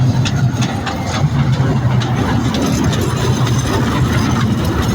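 A small ride train at a trade fair in Bogura, Bangladesh, rumbles with a steady, loud low engine drone and rattling carriages, close by throughout.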